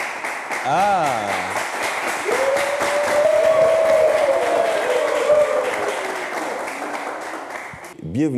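Studio audience applause on a French game show as the grand winner is invited onto the throne, a sustained wash of clapping under an announcer's voice and music tones, ending abruptly.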